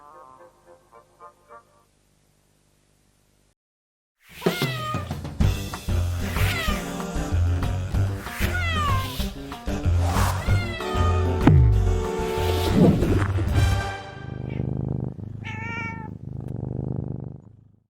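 Cartoon cat meowing and caterwauling in a Garfield television advert, a string of loud, drawn-out meows and yowls over music after a brief quiet opening.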